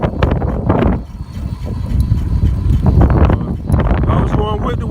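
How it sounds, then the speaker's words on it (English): Heavy wind buffets the microphone while riding a Leisger CD5 electric bike into a headwind at about 30 mph, a loud, continuous roar that surges and dips, with speech mixed in. "I'm going against the wind at 30 miles an hour"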